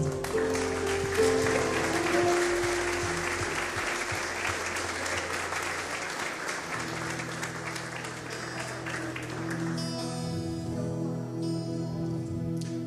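In a church service, the congregation claps for the Lord in a long, full round of applause lasting about ten seconds, then it fades out into soft music and quiet room tone.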